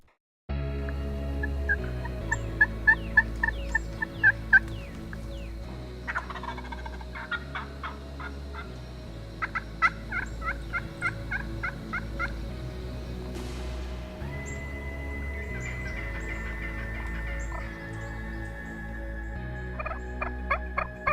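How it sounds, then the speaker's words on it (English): An Osceola wild turkey gobbles repeatedly in Florida in rapid rattling bursts, loud and close, over a steady low hum, with pauses between calls. "Osceola turkeys are endemic to Florida"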